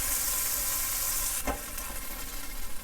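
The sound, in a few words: beef browning and sizzling in a frying pan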